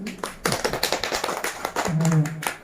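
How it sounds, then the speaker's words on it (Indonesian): Applause from an audience at a school teacher-training session, a run of quick, close claps that swells near the end, with a voice or two mixed in. "Tepuk tangan lagi."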